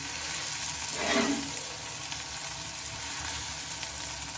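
Leftover rice with chopped coriander leaves sizzles while it is stir-fried in a pan, a steady moderate frying hiss with one brief louder stir or scrape near the middle.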